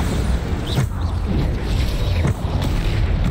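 Bombarda blasting spell explosions in the Hogwarts Legacy video game: dull, rumbling booms and crackling impacts over a dense, continuous wash of game noise.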